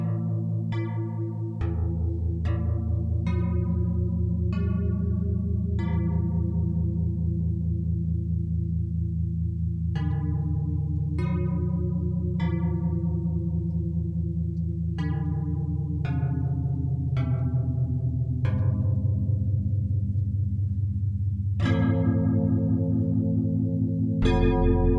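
Synthesizer angel bells preset with effects plays a slow sequence of shimmering bell-like notes, each struck tone ringing out with long echoing decay over a steady sustained pad, clear and alone for the whole stretch.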